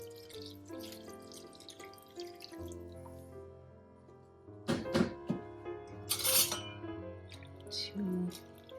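Water runs and drips into a pot of sweet and sour soup with Brussels sprouts and pork tenderloin, a close trickle of splashes that swells into louder pouring bursts midway.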